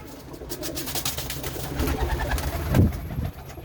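Pigeons kept by Ustad Binder Gill of Ludhiana coo nearby in soft, repeated throaty calls, building to a louder, fuller coo near the end over a light background hiss.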